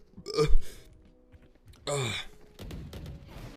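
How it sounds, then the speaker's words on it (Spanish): A man lets out two loud, close burps after drinking Topo Chico sparkling mineral water, the second long and drawn out, followed by a brief rustle. "Como que eructé para..."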